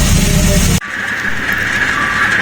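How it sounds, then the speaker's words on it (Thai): A diesel NKF local train pulling out of Phitsanulok station before dawn: loud rumbling noise cuts off abruptly, followed by a quieter steady hiss and hum of the moving train. "ขบวนรถไฟนะครับกำลังออกจากสถานีรถไฟจังหวัดพิษณุโลก"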